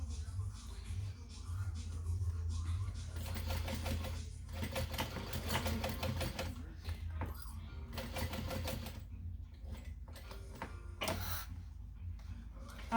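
A sewing machine stitches a quarter-inch seam on a Dayna Pack bag, running in short whirring bursts with brief pauses for back stitches over a connector, fairly quiet against a low background hum.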